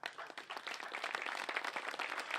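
An audience at a formal ceremonial session of a Slovenian veterans' association applauds an overseas war veteran with sustained, even clapping from many hands in a hall, moderately loud.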